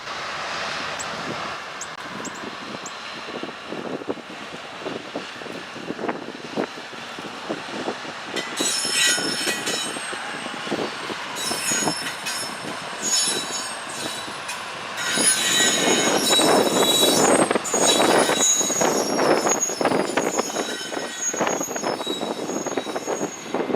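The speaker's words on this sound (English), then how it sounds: "pulling an intermodal train through Columbus" CSX freight locomotives pull an intermodal train steadily past through Columbus, with clattering wagons and squealing wheels, growing louder and denser toward the end.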